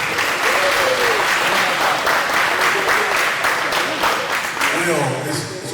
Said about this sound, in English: Y'all give a big round of applause.